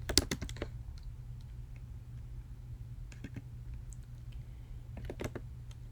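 Keys clatter on a computer keyboard as Java code is entered in a programming editor, with a quick burst of clicks at the start and scattered faint taps later over a steady low hum.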